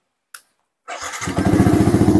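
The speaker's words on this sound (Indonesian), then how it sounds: "cukup sekali starter langsung nyamber tuh starternya" Yamaha R15 motorcycle starting on the first press: a brief click, a short pause, then the engine catches and settles into a close, steady idle with a pulsing rhythm.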